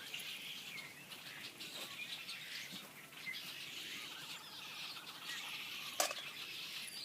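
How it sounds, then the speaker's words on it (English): Faint, high-pitched chirps and twittering of birds outdoors, with soft fluttering of wings and one brief sharp click, all at a distance and without talk. "The birds are here."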